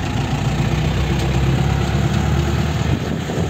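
A tractor engine runs steadily at close range, a loud continuous rumble with no talk over it.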